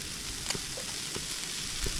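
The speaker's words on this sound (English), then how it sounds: "Shell's cooking a pretty nice breakfast" A breakfast of halloumi, bacon, egg, capsicum and onion sizzles steadily in a pan at a campsite by the Burke & Wills Dig Tree, with occasional pops and utensil scrapes.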